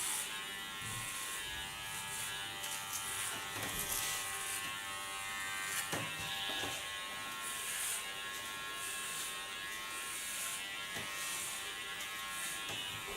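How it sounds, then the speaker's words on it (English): An electric hair clipper buzzes steadily up close while cutting a little girl's hair, its blade set to 2 millimetres with the comb guard removed, the tone dipping and rising slightly as it moves across the head. "I can do this with a clipper comb, but I can also take the clipper comb off and put my blade to the back"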